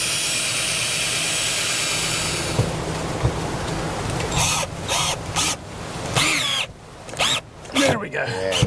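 A power drill drives screws into a MORryde Safe T Rail telescoping RV hand rail, with a steady whine early followed by several short bursts of whirring and stopping, loud and close, with speech alongside.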